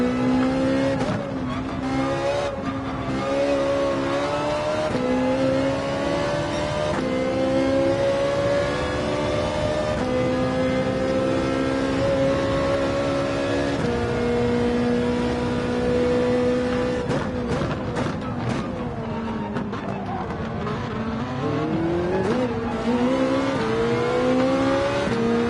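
A Lamborghini race car engine in Gran Turismo 7 at the Nurburgring drones loud and steady throughout, its pitch climbing through gear shifts and dipping and rising again under braking and acceleration, with no talking.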